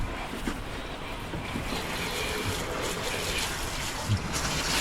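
A water hose sprays down a dirty truck outdoors, a continuous close rushing hiss of water hitting the body with slight wind buffeting and small knocks.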